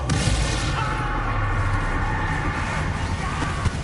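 Bombarda blasting spell explosion in the Hogwarts Legacy video game, a loud, dense, sustained roar of booming blast noise filling the whole clip with no clear pauses.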